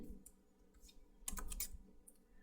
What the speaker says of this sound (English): let's type in our answer